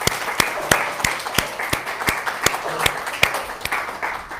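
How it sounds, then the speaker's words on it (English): Applause from a church congregation, loud, regular claps close by set over a softer wash of scattered clapping, with voices cheering underneath. "I want to give you all a round of applause"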